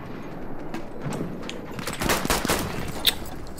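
Gunfire crackles in Battlefield 1: rapid bursts of automatic fire and scattered shots build up and grow louder, with a sharp crack near the end and no talk.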